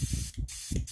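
Short bursts of hissing from a spray gun applying primer to a scale model tank, on and off in quick pulses, close by and fairly loud.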